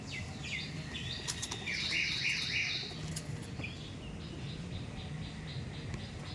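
An aggressive Madrasi pigeon beats its wings in quick, loud bursts of flapping close by, with faint chirps and light rustling between flurries.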